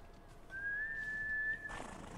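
A horse arrives in a samurai video game with a single clear, sustained whistle-like call lasting about a second, followed by a short rustling burst. No one speaks.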